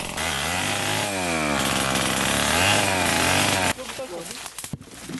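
A chainsaw runs loud and close while thinning an overcrowded cashew plantation, engine buzzing steadily with pitch shifts, then cutting off to quieter outdoor sounds.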